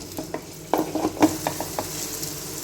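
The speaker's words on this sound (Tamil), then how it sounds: "ஆனியன் ஆட் பண்ணிக்கலாங்க இது நல்லா ஒரு கோல்டன் ப்ரௌன் கலருக்கு மாறும்" Sliced onions fry in hot oil in a pan for a meal maker biryani, with a steady sizzle and a few scraping stirs close up. No one speaks.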